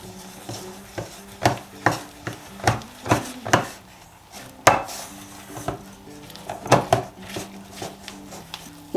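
Sourdough discard cracker dough being stirred together in a bowl, a regular series of close, sharp knocks and scrapes of a utensil against the bowl, steady at first then more irregular, with no talking.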